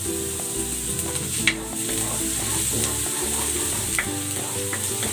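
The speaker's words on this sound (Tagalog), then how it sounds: "Gigisa ko na tong bawang." Garlic sautéing in cooking oil in a pan, with a steady close sizzle and stirring scrapes under a layer of background music, no talking.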